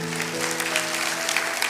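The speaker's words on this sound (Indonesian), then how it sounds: "kasih tepuk tangan untuk Tuhan" A church congregation claps for God during a worship service, a dense, steady patter of many hands filling the room over sustained music.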